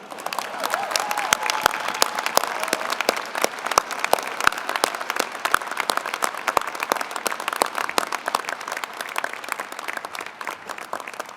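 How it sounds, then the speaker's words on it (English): A graduate commencement audience gives a round of applause for a retiring honoree, steady moderately distant clapping from a large hall crowd with sharp individual claps standing out. "Let's give her a nice round of applause."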